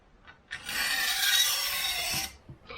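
A survival knife edge is scraped on a 320 grit diamond stone in one close, steady raspy stroke lasting about two seconds, with a brief quieter scrape just before and after.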